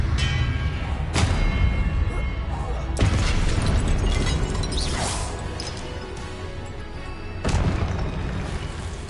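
Spell-casting in the wizarding video game Hogwarts Legacy, with heavy booming blasts and crashing impacts layered over a continuous loud battle rumble, several sharp bursts standing out across the stretch.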